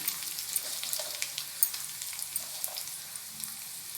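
Ginger, green chilies, curry leaves and dried red chilies frying in oil as a tempering for curd rice, a close crackling sizzle with sharp pops and spits scattered over the bed of frying.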